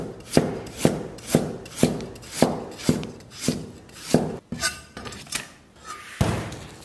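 A knife chops through ginger on a cutting board in a steady run of about a dozen sharp, close thuds, closely spaced and evenly paced, slowing slightly toward the end with no talking.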